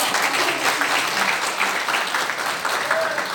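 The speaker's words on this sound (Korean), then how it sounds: "우리 모두 우리 스스로를 위해서 박수 한번 치시고" Audience applause at the founding gathering of a conservative coalition in a National Assembly hall in Yeouido, Seoul: dense, steady clapping from a crowd that fills the whole few seconds without letting up.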